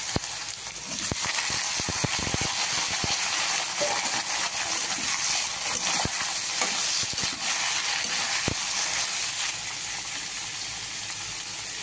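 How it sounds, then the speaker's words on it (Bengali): Mustard seeds and pumpkin hitting hot oil with dried chillies, a constant close sizzle broken by sharp popping crackles and taps of stirring, no speech. "এবার সর্ষেটা দিয়ে দিলাম তেলের মধ্যে"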